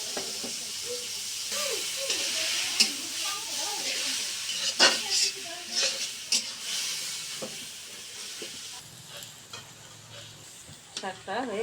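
Leafy mixed village greens sizzle loudly as they go into a pan of fried onion and garlic, a steady hiss of frying with scraping stirs and clatter close up, and a voice speaking faintly underneath.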